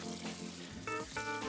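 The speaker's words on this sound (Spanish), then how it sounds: "hay que lavarla con agua fría" A ham bone rinsed under a cold running tap, with a steady broadband rush of water that briefly changes pitch twice as the bone is moved and shaken beneath the stream, close and clear with no talk.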